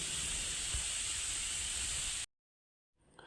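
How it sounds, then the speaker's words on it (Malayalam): Steam hisses steadily and loudly from a pressure cooker of jackfruit for a Kerala erissery, venting for about two seconds before cutting off abruptly into silence, followed by faint clatter. "അപ്പോൾ നമ്മുടെ കുക്കറിൻ്റെ എയറെല്ലാം പോയി വന്നിട്ടുണ്ട്"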